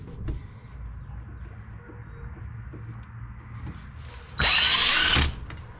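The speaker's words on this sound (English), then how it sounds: "I'm gonna drill us a pilot hole, then we're gonna drill it out" Low background hum, then a power drill whirs loudly for about a second near the end, drilling a pilot hole for a strut bolt on a 2000 Toyota Corolla, before stopping.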